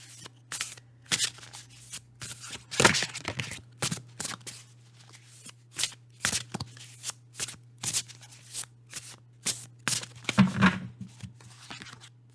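Tarot cards are shuffled by hand in brisk, close riffling bursts with short pauses between them. No one speaks.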